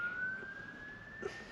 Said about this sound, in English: It's just let the siren pass.